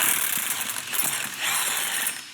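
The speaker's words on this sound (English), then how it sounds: "thank goodness for 1/2-inch electric guns" A half-inch electric impact gun loosens the nut on a BMW shock fork, with a continuous close mechanical rattling whir that rises briefly midway, then cuts off.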